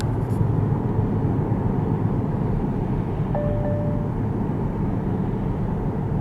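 Steady low rumble of road and tyre noise inside a BMW 528i xDrive (F10) moving at 60 km/h at night, constant and broadband with a brief faint electronic beep partway through.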